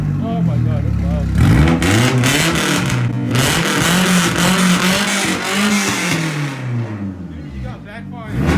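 Nissan 240SX engine revs hard up and down with rising and falling pitch sweeps and crackling backfire, loud and close, with people talking over it.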